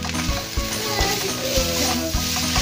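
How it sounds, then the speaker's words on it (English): Garlic rice frying in a pan, a continuous loud sizzle with a rhythmic scrape of a spatula stirring against the pan, nearby and with no talking. "how about Daddy goes in the picture right now and cooks some garlic rice"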